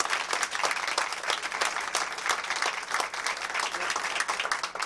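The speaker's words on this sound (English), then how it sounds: "I would just like to have everybody clap one more time for everybody's joint effort and the reality of this" A gathering at a children's advocacy open house claps for a joint effort, with dense, lively applause and sharp individual claps close by, steady for several seconds.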